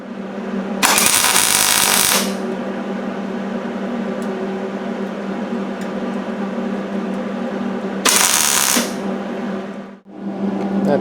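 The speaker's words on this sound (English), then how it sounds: "I'm just going to work my way around with some weld" Welding on the front valance of a Triumph Spitfire under restoration: two loud, harsh crackling bursts, the first over a second long and the second shorter, over a steady mechanical hum that cuts out briefly near the end.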